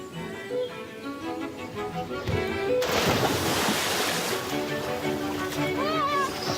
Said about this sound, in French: C'est vraiment le système gravitaire qui fait que l'eau descend très doucement sur cette très très légère déclivité du terrain